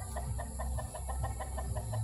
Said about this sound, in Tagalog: Mga manok natin, no?